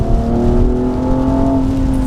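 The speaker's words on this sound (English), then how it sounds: "it sounds good. The engine is good." A BMW M235i xDrive on a wet race track holds a steady, close engine drone, a smooth continuous tone with no break, alone without voices.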